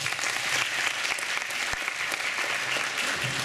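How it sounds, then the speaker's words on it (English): An audience at an International Day of Yoga celebration in Wellingborough applauds its yoga volunteers, a steady burst of clapping from a crowd heard alone. "let's give our volunteers a round of applause."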